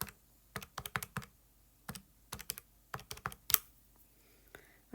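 Keys tapped on a calculator to enter numbers, a quick series of light plastic clicks in short bursts with brief pauses, close and fairly quiet, with no talking.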